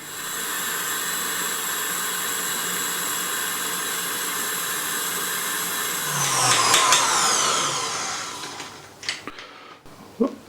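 Egg yolks whisked until frothy for a Christmas pudding, apparently with an electric mixer: a steady whirring motor drone that shifts as the beaters move, then slows and stops with a few clacks at the end.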